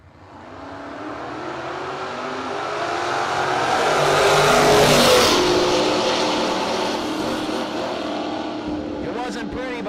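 An LS-powered Oldsmobile drag car makes a run at a no-box drag race, its engine roar building to a loud peak midway and then easing off as it passes, with a brief whine near the end.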